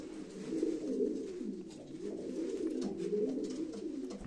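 Pigeons at a live auction cooing in soft, repeated rolling calls, steady and moderately close with a faint room background.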